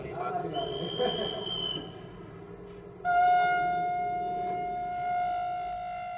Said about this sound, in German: Ein Eilzug ist abgefertigt und rollt an